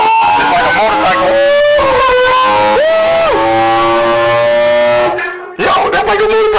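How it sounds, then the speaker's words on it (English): A gadget's motorcycle sound effect plays loud and synthetic: a buzzy, harmonic engine tone that revs up and down in pitch, drops out briefly near the end, then starts again. "Yo, that's like a motorcycle."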